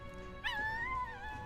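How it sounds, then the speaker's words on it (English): A puppy whimpers in the video game Metaphor: ReFantazio, giving a single high, thin, wavering whine that rises and then falls, clear and close over a steady low game ambience. "A puppy!"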